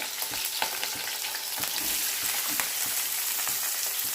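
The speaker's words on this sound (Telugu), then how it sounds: "ఆయిల్ వేడెక్కింది ఇప్పుడు పచ్చిమిర్చి వేసుకోవాలి ఇందులోనే ఉల్లిపాయలు కూడా వేసుకోవాలి" Green chillies and onions fry in hot oil, a close, steady crackling sizzle dotted with frequent sharp pops and spatters, no voices.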